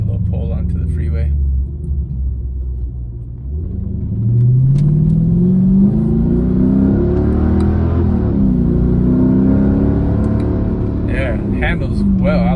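A Mercedes C55 AMG accelerating onto a freeway, its engine rumbling low and then rising in pitch as it pulls harder, loud and close from inside the car.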